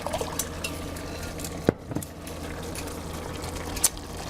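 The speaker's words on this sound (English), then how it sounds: "let's grab a quick glass and pour ourselves a little glass of Chianti" Chianti wine poured into a glass, a soft close-up liquid trickle with a brief clink of glass near the middle and a small tap near the end, quiet and alone.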